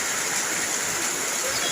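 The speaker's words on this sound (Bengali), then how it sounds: "এত বৃষ্টি হচ্ছে আজকে" Heavy rain pours in a dense, loud, unbroken hiss, a steady roar like rushing water that fills the whole moment.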